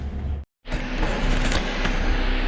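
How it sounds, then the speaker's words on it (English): Small electric fans buzz steadily inside a van on a hot day, a broad constant whirring that drops out for a split second near the start and then resumes close and loud. "We've got our little fans buzzing along here"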